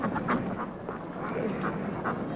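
Ducks quacking in repeated short bursts across a busy urban setting, fairly close and steady, with no voices over them.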